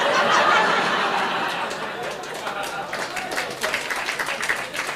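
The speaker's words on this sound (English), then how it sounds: "the round of applause for the mention of a fry-up" Comedy show audience breaking into applause mixed with chuckles and laughter, a steady crowd wash that grows more scattered and percussive toward the end.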